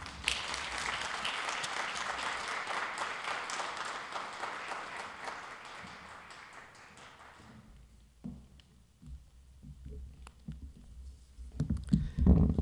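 An audience applauds to welcome a speaker onto the stage at an MLK tribute event, a dense, steady wash of clapping that slowly thins and fades out, followed by scattered handling noises and a low thump near the end.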